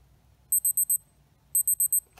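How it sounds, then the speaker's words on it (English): A Casio G-Shock Mudman GW-9010 digital watch countdown timer alarm beeps in two bursts of four rapid, high-pitched chirps, close and clear over a quiet background. "And now my timer is going off."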